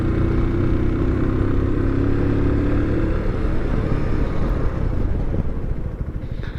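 A Keeway Superlight 125 cruiser motorcycle being ridden during a brake test, its engine droning steadily under loud wind buffeting, the tone dropping as the bike slows, with no talking.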